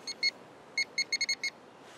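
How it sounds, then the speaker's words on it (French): A small camera device being switched on gives a series of short, thin electronic beeps, one or two early and then a quick cluster of several, quiet against a faint background hum. "il fait 2 bips"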